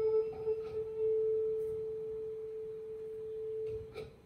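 A steady, pure tone rings from a vibrating tuning fork set on an empty rectangular sound box, sustained and fairly quiet throughout, with faint handling noises near the start and end.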